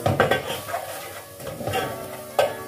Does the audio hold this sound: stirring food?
yes